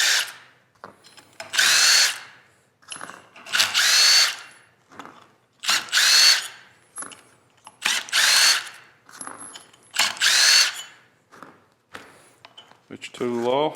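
Power drill backing screws out of a Can-Am governor cup in a workshop, with six loud whirring bursts of about a second each, separated by short pauses and bits of speech.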